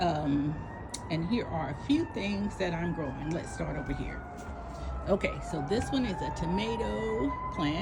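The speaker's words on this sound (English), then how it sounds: "you can hear there's an ambulance in the background somewhere happening here" Ambulance siren wailing somewhere in the background of a patio garden in Richmond, Virginia, rising and falling steadily and distant beneath someone talking up close throughout.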